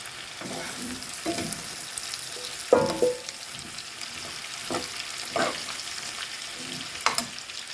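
Carrots sizzle and crackle in a hot frying pan, with occasional stirring scrapes and clinks over the continuous frying hiss.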